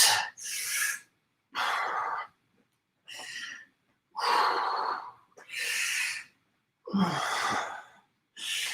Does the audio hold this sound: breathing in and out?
yes